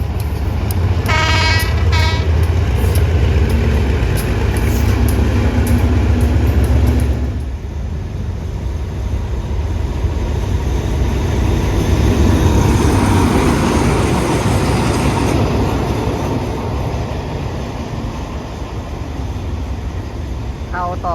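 A diesel locomotive of train 456 on the Thai railway running light back to the depot, with a loud, sustained engine rumble that swells and eases over about twenty seconds and a brief tonal burst near the start.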